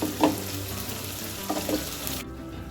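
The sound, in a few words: banana flower and potatoes frying with ginger-cumin-chilli paste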